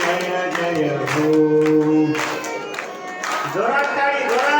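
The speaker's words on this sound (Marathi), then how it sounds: "जोरात टाळी, जोरात." Audience clapping loudly at a devotional Marathi kirtan gathering, sustained applause rising and falling beneath chanted singing and a leading voice.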